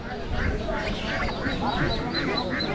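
Ducks at a rural village poultry market in Bangladesh quack over and over in a rhythmic series, close and clear above a background murmur of market voices.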